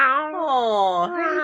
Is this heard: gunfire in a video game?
no